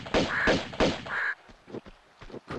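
Crows cawing in a video game, with two loud harsh calls in the first second followed by quieter scattered game sounds.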